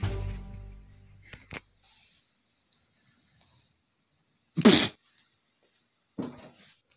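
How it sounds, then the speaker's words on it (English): A cartoon character gives one sharp, forceful sneeze, loud and brief, set apart by quiet, followed a moment later by a shorter burst; a fading tone and small clicks come before it. "That was one hell of a sneeze."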